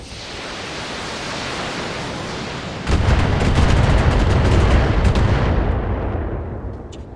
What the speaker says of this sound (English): That was a lot of little missiles.